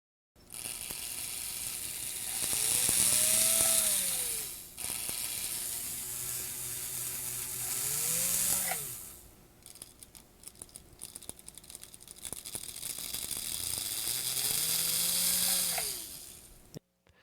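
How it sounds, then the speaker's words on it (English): Small electric motor from a pre-war American Flyer toy train tender running in bursts, a whirring hum that rises and falls in pitch with mechanical rattling and clicking in between. "Now the motor is cleaned, and let me show you how the greasy one runs compared to the cleaned one."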